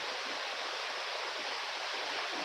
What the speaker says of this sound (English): You hear that rain? It's pouring out here.